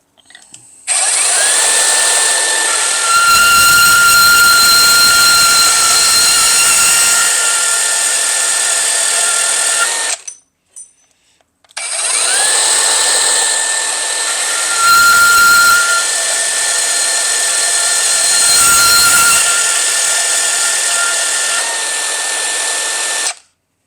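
A Metabo CB3612DA deep cut band saw cuts 3/4 inch tubing in two long passes, a loud steady high whine with hiss, broken by a short gap between runs, with no talking.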